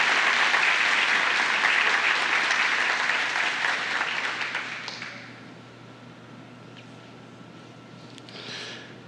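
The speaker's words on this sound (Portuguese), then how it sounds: "Vamos aplaudir a Deus, né," A church congregation claps loudly and steadily for about four seconds during a sermon. The applause then fades out, leaving a quiet room with a faint hum.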